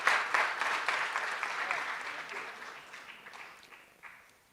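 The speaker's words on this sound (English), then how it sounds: "Let's give her a round of applause." A room of attendees at a parole review summit breaks into applause that starts strong and gradually fades out over a few seconds.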